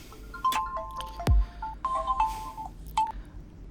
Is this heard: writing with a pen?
no